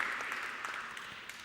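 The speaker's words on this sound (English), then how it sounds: "A round of applause" Soft, steady applause from an audience at a design awards event greets a nominee, a brief and fairly faint wash of clapping.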